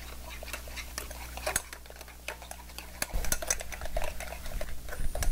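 Mayonnaise, egg and seafood seasoning being stirred in a bowl for crab stuffed oysters, with a steady run of clinks and scrapes of utensil against the bowl, getting busier and louder toward the end.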